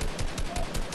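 Rapid automatic gunfire in the video game Fortnite, a short burst of evenly spaced shots, loud and close, with no talk over it.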